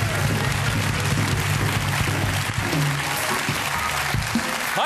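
Studio audience at a German late-night comedy talk show applauding and cheering, a dense steady wall of clapping held loud throughout with no break.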